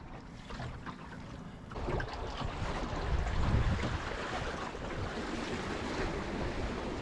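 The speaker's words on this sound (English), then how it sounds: "you can see we've definitely hit some wind" Wind gusts past a small sailboat out on open water, a broad rushing roar that thickens midway and mixes with the wash and slap of waves against the hull, with no voices.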